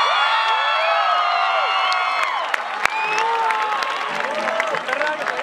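Audience at a concert in central Guadalajara, Mexico, applauds and cheers steadily throughout, with whoops and shouts over the clapping and a crowd roar that eases slightly midway.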